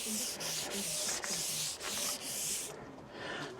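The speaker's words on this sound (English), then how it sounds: "wiping the glass clean with this wiper which was sent everybody" A wiper is rubbed back and forth across the window glass of a Citroen Dispatch LWB van, producing close, loud rhythmic swishing strokes with short pauses between passes.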